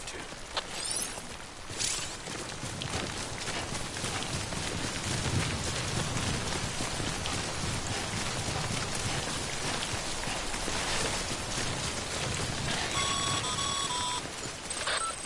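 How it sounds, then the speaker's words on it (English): Timefall rain in the video game Death Stranding pours steadily and densely throughout, a continuous hiss of falling drops with a few faint electronic beeps near the end. "prolonged exposure to timefall damages cargo containers. Don't stay out in the rain any longer than you have to."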